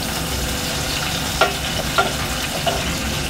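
Scotch bonnet pepper is dropped into a loudly frying pepper sauce for fish, a steady close sizzle with a few sharp stirring clacks from a spoon against the pot.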